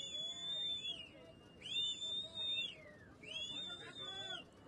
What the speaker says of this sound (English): You can also hear people whistling, which is basically the locals giving emergency warning to each other that it's time to run.